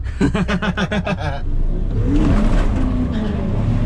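A car launching in a drag race from about 2000 RPM: rapid rhythmic pulsing of a held engine gives way to a loud sustained roar as it pulls away, close and dominant.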